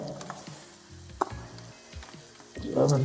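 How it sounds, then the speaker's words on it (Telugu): Mountain goat mutton curry with masala is stirred in a hot pan, a steady sizzle under scraping spoon strokes and clicks, building to a louder, busier fry at the end. "మొత్తం మసాలా బాగా కలిచ్చి కింద నుంచి బాగా కలుపుకొని బాగా పడితే బాగుంటుంది"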